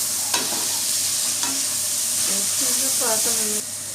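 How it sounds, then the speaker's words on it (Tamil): Tomatoes sauté in a hot pan for chilli bread, with a loud continuous hissing sizzle, a couple of spatula clacks and a few bubbling pops, with no talking. "இப்போ தக்காளி வந்து நல்லா வதங்கட்டும்"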